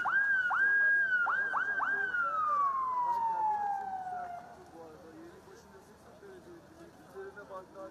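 An emergency vehicle siren wails nearby at a rubble rescue site after an earthquake in Gaziantep, rising and falling a few times before fading into a long descending tone as the ambulance drives off toward a hospital.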